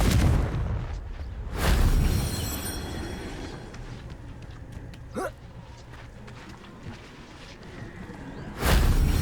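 Confringo fire spells explode in Hogwarts Legacy on PS5, with two loud booming blasts at the start and end, and a rumbling, crackling gap between them.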